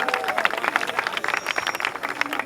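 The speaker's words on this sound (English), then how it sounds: "Give them a round of applause, as well as the North Babylon varsity basketball team who marched with Danny today." Applause and clapping from a crowd at an outdoor parade in North Babylon, Long Island, honoring a varsity basketball team; dense, steady clapping that holds for the whole stretch with no talk over it.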